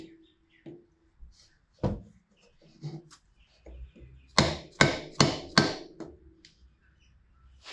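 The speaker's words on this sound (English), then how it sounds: "And that's just a rubber dead blow hammer." A plastic dead blow hammer taps several times on a classic car, first in scattered knocks, then a quick run of four firm, close blows, with some light handling noise.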